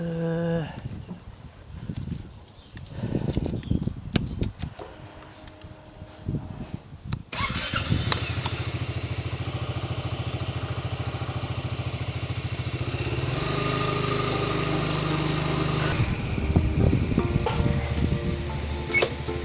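A Honda ADV 350 scooter engine runs steadily after cleaning and re-lubrication of its bearings, a smooth continuous hum close by that starts partway in after some clattering handling noise.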